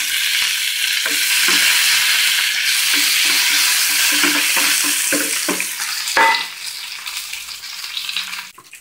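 Curry leaves hit hot oil while sambar is being made, giving a steady loud sizzle throughout with scattered stirring clinks, then a sharp clatter near the end before the frying quiets slightly.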